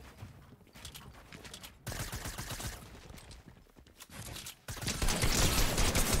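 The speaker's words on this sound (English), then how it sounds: "I'm getting shot from over here." Fortnite gunfire crackles in dense, rapid bursts, with quieter gaps between volleys and a loud, sustained barrage at the end.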